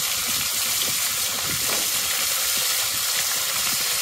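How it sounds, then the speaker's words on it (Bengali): Hilsa fish heads frying lightly in hot oil, giving a steady, close hiss and sizzle with faint bubbling crackles throughout and no talking. "ইলিশ মাছের মাথা দুটো একটু হালকা ভেজে নেবো"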